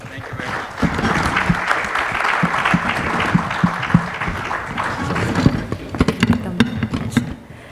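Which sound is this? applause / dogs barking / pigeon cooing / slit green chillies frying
applause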